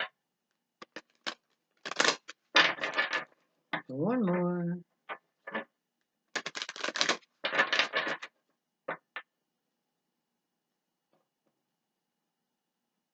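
Tarot cards are shuffled in a few short riffling bursts, close and crisp. A voice speaks briefly and hums between them.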